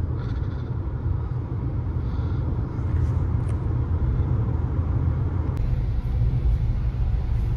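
A 2023 Toyota Hyryder S automatic being driven, its engine giving a steady low rumble with road and tyre roar inside the cabin, fairly loud and unbroken.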